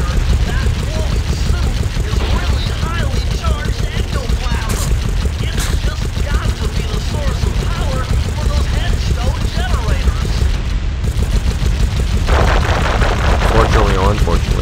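Rapid gunfire and weapon blasts from the Sly Cooper video game crackle continuously at high volume, dense and unbroken, with a player talking over the shooting now and then.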